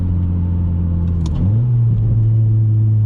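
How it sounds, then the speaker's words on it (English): A Honda Civic engine heard from inside while driving, downshifting with a steady mid-pitched drone that drops and then rises as the revs blip near the middle, with intake air noise, loud and continuous. "Those downshifts, they sound so good."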